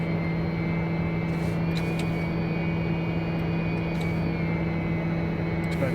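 A TBM900 turboprop engine roars at high torque during the takeoff roll in a flight simulator, a loud continuous drone with a strong steady low tone and a high whine, with no talking.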